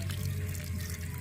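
Water pours steadily from a village pipe and runs to waste, a continuous low rushing flow close by with no talk over it.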